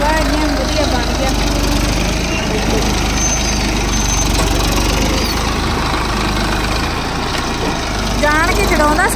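A tractor in a farm field where mustard is being sown, its engine chugging steadily and loudly up close with a knocking rumble. People talk over it throughout.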